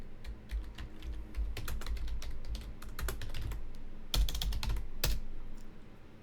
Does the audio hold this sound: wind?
no